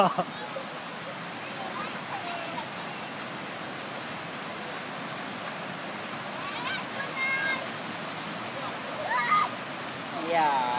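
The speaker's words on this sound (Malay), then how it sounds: "mandi sungai kampung." River water rushes steadily at a village river bathing spot, a soft continuous wash with occasional splashes and faint voices or cries over it.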